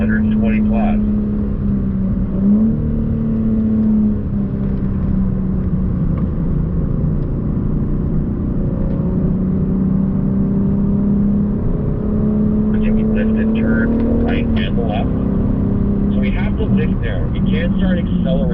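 A BMW M car is driven hard around the Thermal race track, its engine holding a loud, steady drone with brief pitch shifts, while a driver and instructor talk over it.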